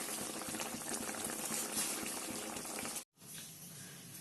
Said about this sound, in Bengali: মাছের ঝোল এই যে বসিয়ে দিলাম সর্ষে বাটা দিয়ে, এটা ফুটে উঠেছে দেখতে পাচ্ছেন।